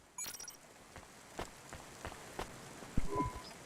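Rain falls in the city streets of the video game Cloudpunk, a faint steady hiss broken by scattered sharper drops and taps, with no voices.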